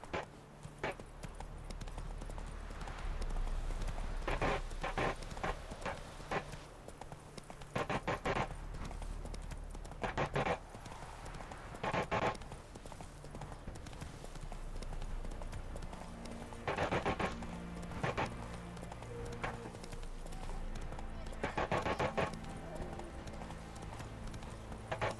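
In The Witcher 3, the horse Roach clip-clops along at a steady pace. The hoofbeats run continuously and are broken by several sharper, louder bursts, with no talk over them.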